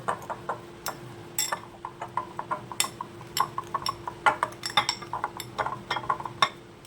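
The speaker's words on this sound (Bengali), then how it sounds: "এই পাত্রে দিয়ে দিচ্ছি জল ছড়ানো টক দই একটু ভালো করে মিশিয়ে নেব" Strained sour yogurt is mixed in a bowl with a spoon, giving a string of small sharp clinks and taps against the bowl in an irregular rhythm over a quiet background hum.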